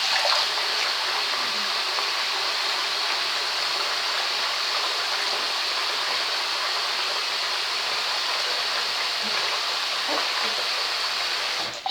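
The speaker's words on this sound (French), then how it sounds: "Je me rince les mains." Tap water running steadily while hands are rinsed at a sink, a loud, constant close-up rush of water that fills the whole stretch without letting up.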